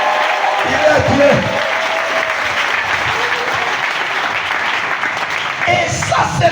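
A church congregation at a Sunday service claps and cheers loudly and steadily throughout, with scattered shouts and voices rising over the applause and a brief dip near the end.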